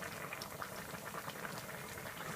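Jamaican stew peas with pigtail bubble in a pot, a steady, quiet simmer of dense popping and gurgling with no pauses and no voices.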